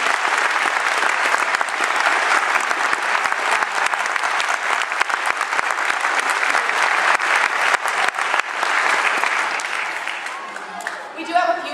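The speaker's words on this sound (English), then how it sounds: "could we please give this woman a huge round of applause" Sustained applause from a school concert audience at a first grade concert, a dense steady wash of many hands clapping for nearly twelve seconds before tapering off, with faint voices emerging at the end.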